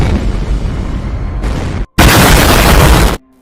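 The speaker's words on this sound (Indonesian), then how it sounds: "ledakan pun terjadi." A loud, roaring blast of wideband noise from an explosion at sea destroying a giant shark bursts out after a brief gap and fills the air for about a second before cutting off abruptly.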